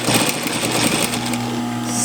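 A sewing machine runs steadily, stitching over pins along a scrub cap seam at about a quarter inch, a continuous close mechanical hum without pause.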